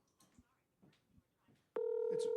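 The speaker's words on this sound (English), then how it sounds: "It's finally ringing." A steady electronic telephone ring starts abruptly partway through and continues loudly, following a stretch of quiet talking.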